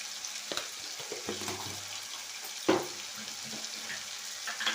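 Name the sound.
turmeric and homemade chili powder sizzling in pan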